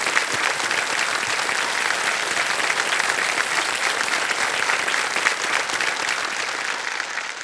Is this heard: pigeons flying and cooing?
no